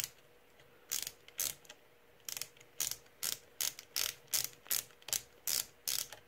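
Ratchet wrench winding a nozzle on a Prusa i3 MK3 3D printer, a quiet close series of short rhythmic clicking bursts, about a dozen strokes in steady succession.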